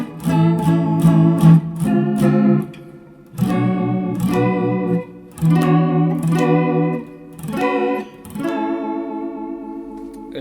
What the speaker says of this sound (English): This is a very intense chorus effect